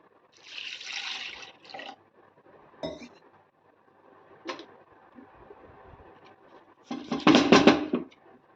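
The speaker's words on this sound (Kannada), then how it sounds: "ನಾನು ಅದಕ್ಕೆ ಎಷ್ಟು ಬೇಕೋ ಅಷ್ಟು ನಾನು ನೀರು ಹಾಕೋತಾ ಇದ್ದೇನೆ" Water is poured from a glass vessel into ground masala for a chicken curry, heard in a few short splashing bursts with clinks of the container between quiet pauses, the last pour loudest.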